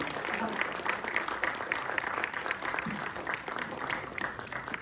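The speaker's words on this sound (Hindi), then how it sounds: "जोरदार तालियां बजती रहनी चाहिए।" Loud applause at an international yoga conference in Haridwar, a dense, continuous clatter of many hands clapping at a steady level throughout, with no voices rising above it.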